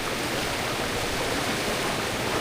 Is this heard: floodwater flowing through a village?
yes